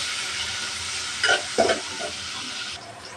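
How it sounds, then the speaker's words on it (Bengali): Prawns frying in hot oil with turmeric and salt give a steady close sizzle, broken by two short louder bursts of stirring or spattering midway before the hiss eases slightly. "তেল গরম হয়ে গেছে দিয়ে দেবো চিংড়ি মাছ দিয়ে দেবো হলুদ কুচি লবণ কুচি মাছটা একটু হালকা ভেজে নেবো"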